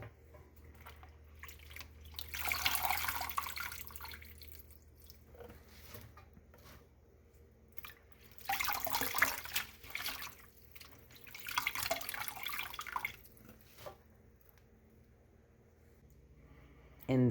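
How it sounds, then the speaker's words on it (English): Water splashing and draining from washed Chinese cabbage lifted out of a bowl, several bursts of trickling and dripping separated by quieter pauses, with some talk in between. "I'll swish them like this and take them from the top, letting some of that water drain"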